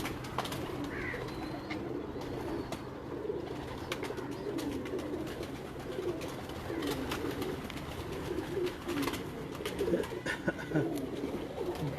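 Breeder pigeons coo steadily in a loft, soft throaty calls repeating over a constant rustling background, with faint voices now and then.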